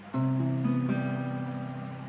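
Clean guitar picked in a steady down-up alternating motion, with a few notes blending into a sustained, ringing chord-like tone that is played nearby and unaccompanied at a moderate volume.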